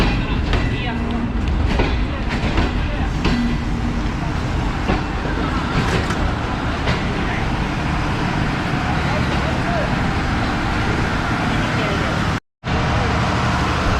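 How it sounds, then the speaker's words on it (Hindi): Passenger train pulling away from Nawabshah railway station in Pakistan, a loud continuous rumble of wheels and carriages with faint clattering, close and steady throughout. "तो सिर्फ 2 मिनट रुकने के बाद ट्रेन जो है डिपार्ट कर रही है नवाबशाह रेलवे स्टेशन से।"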